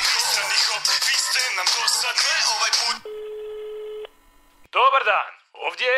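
A long steady electronic telephone tone sounds after a burst of talk, then goes quiet before voices return, and a few short spoken phrases follow.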